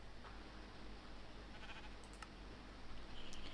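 Sheep in the Minecraft video game bleat a few short times, faint and close together, over a low background hiss.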